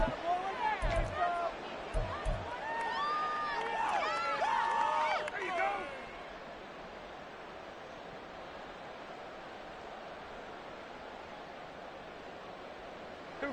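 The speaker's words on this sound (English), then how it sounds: "this crowd trying to force a false start here" Crowd noise fills a football stadium late in a game as fans try to force a false start, a steady roaring babble that carries on throughout, with a commentator talking over the first part.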